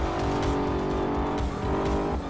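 An Audi TT race car in Forza Motorsport 4 drives off with a loud, steady engine roar and faint tire noise that holds at an even level throughout, with no talking.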